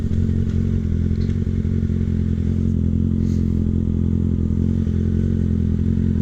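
A 2016 Kawasaki ZX6R 636 sport bike ridden on a freezing day gives a loud, steady low engine drone with constant rumble and wind, holding an even pitch throughout with no voices.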